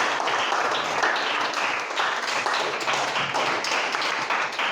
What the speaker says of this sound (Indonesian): Oke, tepuk tangan anak-anak semuanya.